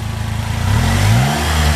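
The four-cylinder engine of a 2016 Polaris Slingshot SL runs close by, starting as a steady pulsing idle and briefly rising in pitch, with no one speaking.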